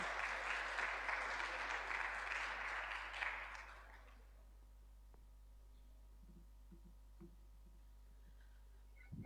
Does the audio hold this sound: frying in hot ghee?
no